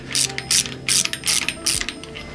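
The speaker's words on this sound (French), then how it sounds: "on peut passer par les trous de la poulie pour serrer les écrous" A ratchet tightens nuts through the pulley holes during an Alfa Romeo MiTo engine swap, giving five quick bursts of close, crisp clicking with short pauses between strokes.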